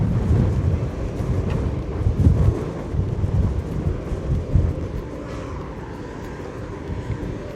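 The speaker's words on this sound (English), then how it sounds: "try and get out of this wind." Strong wind buffets the microphone on the open deck of a Windstar Star Breeze cruise ship in French Polynesia, a continuous loud rumbling roar with gusts rising and falling throughout.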